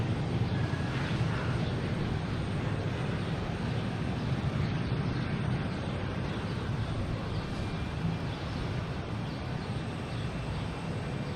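A JetBlue airliner from Milwaukee landing at Boston Logan Airport: a continuous rumbling jet roar that stays loud and steady, easing off slightly toward the end, with no talk.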